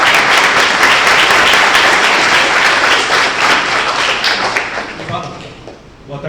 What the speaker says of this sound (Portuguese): Uma salva de palmas para o Diego.